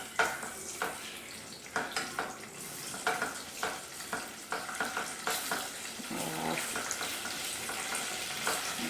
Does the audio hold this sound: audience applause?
no